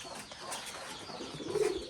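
Domestic pigeons in a dim home loft, soft low cooing over a faint background hiss, with the clearest coo rising near the end.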